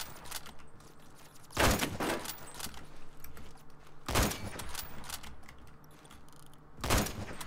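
Gunfire in the shooter game Mirage comes in three sharp bursts spaced a couple of seconds apart, loud against a low, busy background with no talking.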